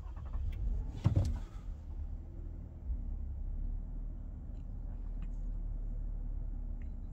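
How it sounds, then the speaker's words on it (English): A Lexus car engine turns over once, giving a short burst of starter noise, and then settles into a low, steady idle rumble heard from inside the car. "Turn the car off, start the car."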